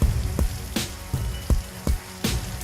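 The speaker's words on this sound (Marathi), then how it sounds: "रत्नागिरी जिल्ह्यात सलग तिसऱ्या दिवशी अवकाळी पावसानं दमदार हजेरी लावली." Heavy unseasonal rain pounds Ratnagiri district for a third straight day: a dense, steady hiss broken by repeated louder bursts every half second or so, with no voices.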